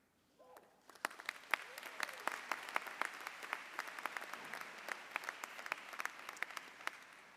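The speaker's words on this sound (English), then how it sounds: "You got to stop clapping" Audience at a law school commencement ceremony bursts into clapping after a brief quiet start, a dense field of many hands with sharp individual claps standing out, sustained and moderately distant throughout.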